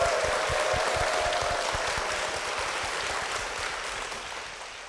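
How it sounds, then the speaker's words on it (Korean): Congregation applause at a church broadcast event, steady clapping that gradually fades, with a faint tone in the background early on. "박수로 모시겠습니다"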